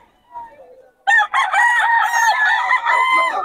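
Sweater bloodline gamefowl rooster at a Bocaue market, crowing loudly and close by in one long sustained call after a faint brief cluck, with no talk over it.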